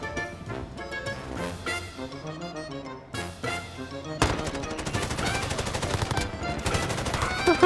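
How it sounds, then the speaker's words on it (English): Rapid automatic gunfire in Call of Duty: Modern Warfare, bursts punctuating a musical backdrop before a continuous loud stream of shots takes over in the second half, close and dense. "he's shooting right through this wall"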